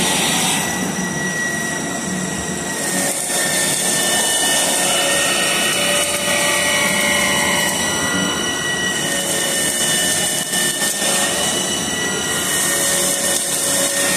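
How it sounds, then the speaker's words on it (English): A machine tool cuts the top side of a Ford C6 piston, giving a loud continuous high metallic whine with shifting tonal squeals and a steady grinding bed of noise. "So you can see we're machining the top side of the piston now."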